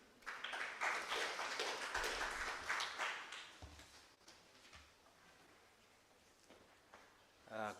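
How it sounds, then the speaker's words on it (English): Audience applause welcoming a speaker at a World IP Day event, moderate clapping that fills the first few seconds and then thins to scattered claps and room noise before a voice begins. "with a round of applause,"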